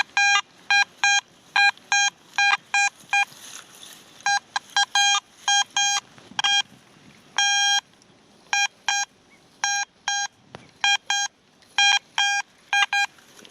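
Repeated electronic beeps from a metal detector on a solid target that may be a Chinese coin, in a goldfield; short bursts in irregular clusters, loud and close over faint background rustle.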